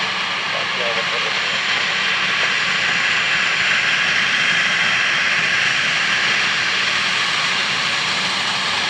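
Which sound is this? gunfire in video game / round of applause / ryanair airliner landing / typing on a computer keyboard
ryanair airliner landing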